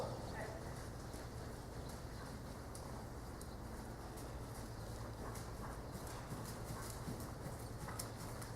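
Horse hooves clip-clop in a steady rhythm on an arena surface during a riding lesson, heard continuously at a moderate distance under an instructor's talking.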